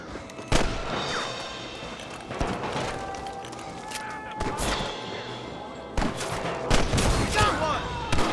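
A Red Dead Redemption firefight with repeated rifle and pistol gunshots at irregular intervals, some close and sharp, others more distant, over rustling movement and faint background activity.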